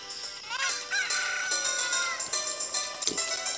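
A cucco-style chicken from the Zelda: Ocarina of Time video game clucks and crows in a string of shrill, warbling synthesized calls over a steady background of game music, with no talking.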